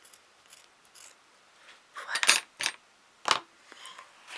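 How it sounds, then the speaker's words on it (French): Scissors snip through a piece of material for a Santa Claus Christmas-bauble craft, with several crisp, close cuts clustered in the middle and a few fainter snips around them, no voice over them. "Je coupe un morceau."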